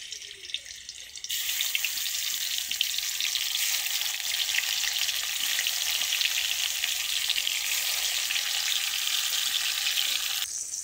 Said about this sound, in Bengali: তেলটা গরম হয়ে গেছে, পরে ওর মধ্যে মাছ দিয়ে দেব।